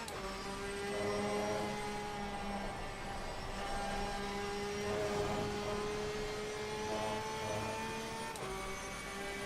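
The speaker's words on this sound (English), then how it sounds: "You probably heard the engine die there." A GT2 or GT3 race car's engine in Assetto Corsa Competizione at the Nürburgring, a steady droning tone that holds loud and unbroken throughout, with no sharp cutoff audible.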